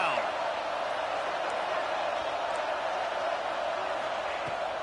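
Stadium crowd at an Ohio State vs Clemson college football game makes a dense, steady roar that stays loud and constant throughout, with no single voice standing out.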